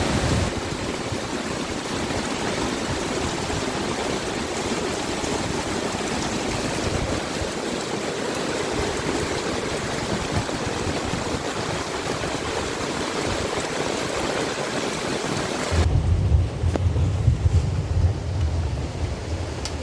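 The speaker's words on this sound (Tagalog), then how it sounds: "Lakas ng ulan." Steady, dense rush of heavy rain pouring down without pause at a campsite in Palauig, Zambales, with a deeper gusting rumble of strong wind joining near the end.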